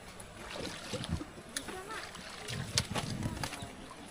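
A man wades into the water at a dam, with irregular sloshing splashes and swishes near at hand, some sharper than others, against outdoor wind and faint voices.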